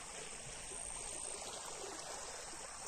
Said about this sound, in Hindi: बहुत ज्यादा सैलाब आया हुआ है।